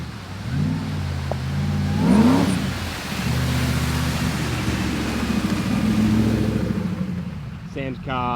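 A Cummins diesel-swapped Nissan Patrol 4x4 revs on a shakedown drive, its engine note climbing and settling in a rumbling mid-range drone, fairly close, with brief talk near the end.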